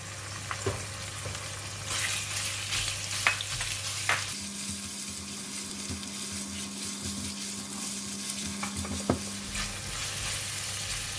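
Minced pork and chili sizzle steadily in an oiled pan while being stir-fried, with scattered spatula scrapes and clinks over a constant frying hiss and a low background hum.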